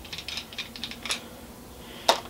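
A saw blade is unscrewed from a Raptorazor knife handle, giving soft, quick ratcheting clicks in a short run, then a pause and one sharper click near the end, all faint and close with no voice.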